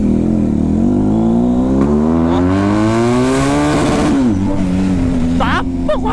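A Duke motorcycle with a straight-through exhaust revs up in one long rising pull, loud and close, then drops back briefly and climbs again, with a voice talking over it.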